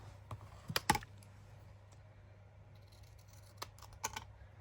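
Scissors trim paper craft pieces nearby. A few sharp snips cluster early and a couple more come later over a quiet low hum, with no talk.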